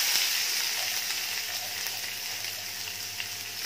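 Onion sizzling in hot oil with mustard seeds in a pan for fodnicha bhat, a steady close hiss of frying with faint stirring, no voices.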